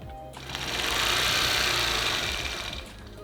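A sewing machine stitches a quilt in one continuous, fast run, rising from quiet to a loud, even whirr and then slowing to a stop.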